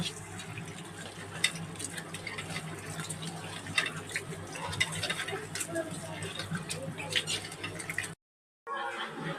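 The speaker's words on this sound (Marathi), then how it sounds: "ह्याला 2 ते 3 पाण्याने आपण असं स्वच्छ धुवून घ्यायचं" Sliced bitter gourd washed by hand in a bowl of water, a steady close sloshing and swishing with small splashes that runs for several seconds and stops abruptly near the end.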